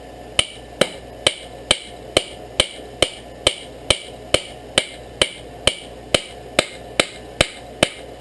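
Steady, evenly spaced hammer blows on hot rebar steel on an anvil while forging a knife, about eighteen ringing strikes in a regular rhythm, close and loud with a bright metallic ring.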